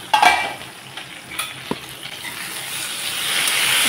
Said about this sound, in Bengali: আমি সিম আর আলুগুলোকে একটু ভালোভাবে ভেজে নিলাম